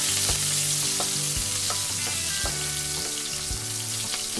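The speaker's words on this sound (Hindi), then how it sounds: "तो इसमें हमने 2 से 3 हमने हरी मिर्च डाली है और इसको भी हल्का सा हम भून लेंगे।" Green chillies fry in a pan of hot oil for bread pakoda, giving a loud, continuous close sizzle with a rhythmic series of stirring knocks and scrapes, with no voices.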